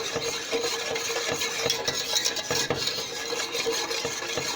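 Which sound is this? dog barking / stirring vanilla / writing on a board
stirring vanilla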